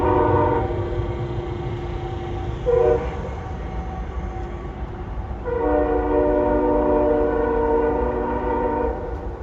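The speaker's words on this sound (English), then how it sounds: "what we're hearing is I-144 heading towards Cordele" Freight train I-144 rolling inbound toward Cordele, Georgia, beside a hotel, its horn sounding in long sustained blasts with a brief break between them, loud and close over steady rumbling wheels.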